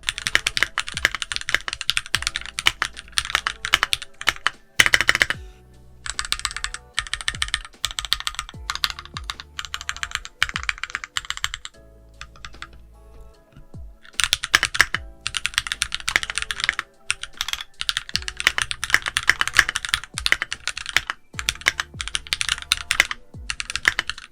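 Steady typing on a Keychron Q1 mechanical keyboard with red switches, quick clattering keystrokes in bursts with brief pauses between runs, close and fairly loud, no voices.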